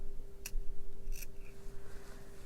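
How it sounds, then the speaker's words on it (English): Fabric scissors snip into a garment sleeve, two or three quick close crisp cuts over a faint steady hum. "I'm going to I'm going to cut down a little bit of a ways here"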